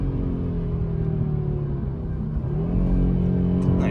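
An Audi RS3 8Y, 401 hp quattro, pulls away from a standstill, its engine drone heard from inside the car, rising steadily in pitch and swelling louder toward the end, with no voices.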